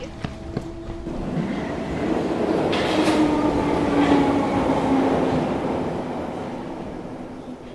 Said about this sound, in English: my train is literally pulling away.